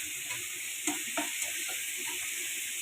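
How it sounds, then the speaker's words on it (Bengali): Red amaranth greens and shrimp frying in a pan, a steady close sizzle with soft stirring clinks and scrapes now and then, no talking. "আর এর পাশে শাক, চিংড়ি ভাজিটা প্রায় হয়ে আসছে।"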